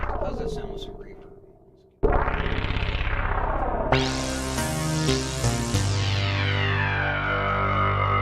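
Studio Electronics Omega 8 analog synthesizer playing sustained chords drenched in reverb, with a long decaying tail before new loud, bright swelling tones enter and stack, close and alone with no talking.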